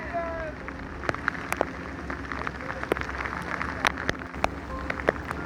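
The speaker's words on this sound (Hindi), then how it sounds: "बारिश ज़ोरों से शुरू हो गई" Heavy rain falls on a trekking route over the Chanderkhani mountain pass, a steady wash of downpour with sharp drops striking close by and no voices.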